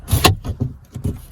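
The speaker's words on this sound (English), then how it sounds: "But this window right here, it opens." Rear sliding cab window on a 2003 Ford Ranger XLT pickup being worked open, a few short clunks and rattling slides of glass in its frame, close and fairly loud.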